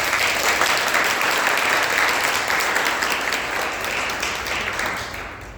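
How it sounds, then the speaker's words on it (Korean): A church congregation at a Korean Sunday worship service gives a blessing round of applause, dense steady clapping held at an even loudness before tapering near the end. "우리 축복의 박수 할까요?"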